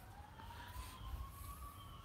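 A distant siren wails faintly with a slowly rising tone over low rumbling background noise.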